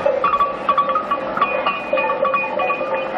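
Rapid, hollow clanking tones repeat steadily like a cowbell, a pedestrian crossing signal in Las Palmas de Gran Canaria beeping over a soft street hum.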